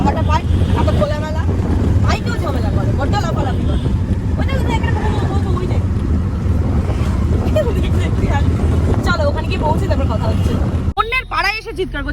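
An auto rickshaw rumbles along with steady engine noise and wind buffeting the microphone, while people talk over it throughout.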